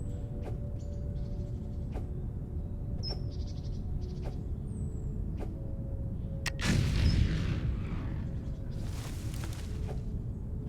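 Explosions in the factory-building video game Foundry thud at a regular pace, roughly every second and a half, with a louder rumbling blast partway through over a low steady game drone.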